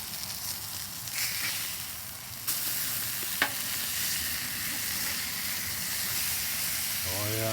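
Steak and potatoes sizzle on a Blackstone 28-inch griddle in a loud, steady hiss. There is a brief metallic scrape partway through, and the sizzle carries on alone without speech.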